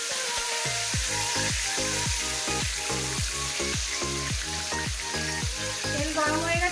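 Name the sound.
koi fish frying in hot oil in a kadai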